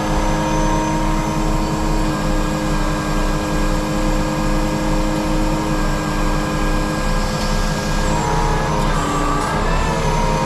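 Hydraulic pump and engine of a BIK TC-106 grapple-saw truck working its front stabilizer, a steady loud mechanical drone with a rhythmic low pulse and a rising whine near the end.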